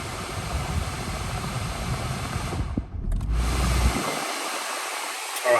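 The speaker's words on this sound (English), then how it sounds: "I'm just going to start the vehicle up." A 2015 Kia Cerato S Premium hatchback engine starts: a steady whooshing roar, a brief cut in the middle, then cranking back up into a loud, even idle with air-conditioning blowing.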